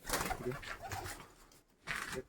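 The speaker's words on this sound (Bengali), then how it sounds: "নতুন পেয়ারে পায়রা আবার ডিম পেরে দিয়েছে" Domestic pigeons, including a newly paired couple that has laid eggs, coo in soft, rounded bursts with short pauses between them, close by.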